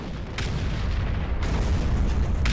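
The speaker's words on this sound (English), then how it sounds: "Oh my god, the explosions. There's so many of them." Explosions and artillery fire roar through a Warhammer 40K roleplay match in Garry's Mod, a dense, continuous rumbling barrage with sharper blasts breaking through and no talk over it.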